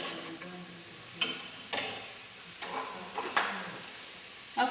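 Meat stirred in a hot cooking pot, a spoon knocking and scraping against the pot in a handful of spaced clicks over a faint continuous sizzle, close by and quiet, with no talking.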